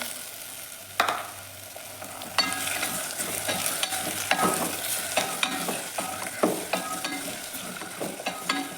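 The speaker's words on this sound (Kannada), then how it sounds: "ಟೊಮೆಟೊನೂ ಚೆನ್ನಾಗಿ ಫ್ರೈ ಆಗಲಿ ಒಂದು ಐದು ನಿಮಿಷ ಫ್ರೈ ಆಗಲಿ" Tomatoes and garlic fry in a pan for a bitter gourd gravy, giving a steady sizzle broken by frequent scraping stirs of the spoon, close and fairly loud, with no talking.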